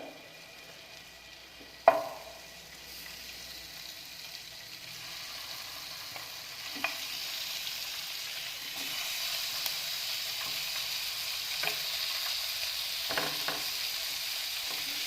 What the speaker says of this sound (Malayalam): നമുക്കിതിനെ ഒന്ന് ഷാലോ ഫ്രൈ ചെയ്തെടുക്കണം.